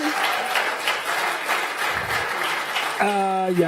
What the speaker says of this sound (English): Can I have a big round of applause?